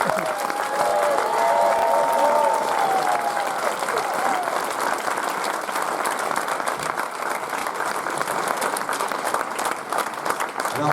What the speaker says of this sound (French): Je voudrais que vous applaudissiez très très fort notre pianiste accompagnatrice, Marjolaine.